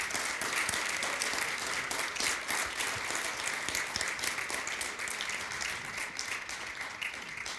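A studio audience applauds the candidates at a Cook County State's Attorney forum, the clapping steady and full from a sizable crowd with no voices over it.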